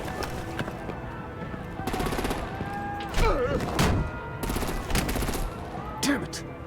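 Gunfire and artillery in the Batman The Enemy Within video game, rapid bursts of shots and thumping blasts in several clusters, loud and overlapping, with a voice speaking briefly among them.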